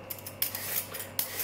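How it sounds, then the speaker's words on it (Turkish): Eggplant being cut into cubes, quick crisp knife strokes landing in an irregular rhythm, close and clear over a quiet background with no talking. "Küp küp doğrayacağım, patlıcanları hazırlayayım."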